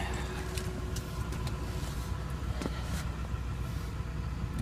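A 2009 Ford Crown Victoria Police Interceptor with 77k miles idles with a low, steady engine rumble, close and continuous, with a few light clicks over it.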